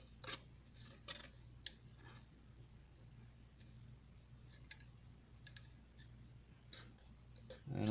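Scissors cutting plastic for a DIY self-watering planter: sparse, close snips and clicks in a quiet room, separated by pauses, over a faint steady hum.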